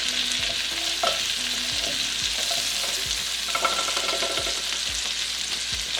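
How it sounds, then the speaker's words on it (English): Shawarma meat frying in a generous amount of butter over a low to medium flame, a steady close sizzle with regular stirring scrapes and knocks throughout. "I'm using a generous amount of butter to fry my meat"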